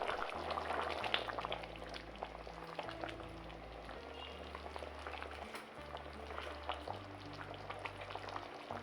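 Fish stew with sauce and spices simmers in a pot, a steady, quiet bubbling and sizzling with a low hum beneath it, continuing evenly throughout.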